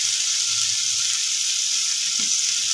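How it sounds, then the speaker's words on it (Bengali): Potatoes and half a tomato frying in a pan, a steady loud hiss of sizzling oil throughout with faint scraping as the pieces are stirred. "আলুগুলো যে একেবারে লাল ভাজা হবে তা কিন্তু না, একটুখানি জাস্ট নাড়াচাড়া করে নেব।"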